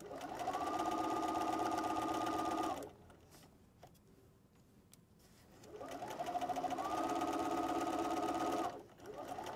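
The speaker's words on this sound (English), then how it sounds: "press your foot down, and sew" A sewing machine stitches fabric in two long, steady whirring runs, its motor humming at constant speed for a few seconds at a time, separated by a short quiet pause and then cutting off abruptly.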